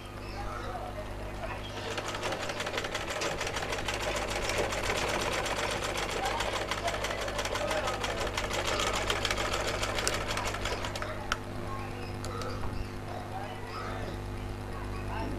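Sewing machine running steadily, stitching a half-inch tuck into a blouse, a continuous mechanical whir with fast stitch ticks that carries for most of the clip, close and fairly loud.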